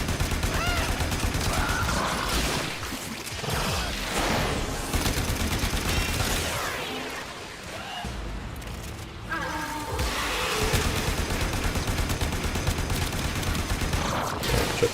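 Dense, continuous rapid gunfire from the player's weapon in the shooter game Warframe, loud and sustained with brief lulls, layered with other game effects.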